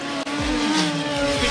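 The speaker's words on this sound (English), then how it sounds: "Shaun Zurich gets away. So we got some more sound in the start line" A 9-second all-motor front-wheel-drive Honda Civic drag car launches off the start line at a drag strip, a loud, high-revving engine scream with brief tire chirps and shifts, heard from nearby.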